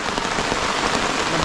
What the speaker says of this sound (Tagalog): Diyos ko po, dyan ang ulan.